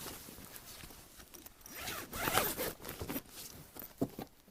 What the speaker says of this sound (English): zip these flats down